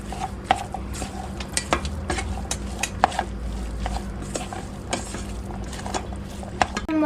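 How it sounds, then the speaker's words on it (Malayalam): Chilli and onion being mixed together in a pan, repeated clinks and scrapes of a spoon against metal over a low steady sizzle, close by with no talk. "ഇനി നമുക്കിത് നന്നായി മിക്സ് ചെയ്ത് വെക്കാം"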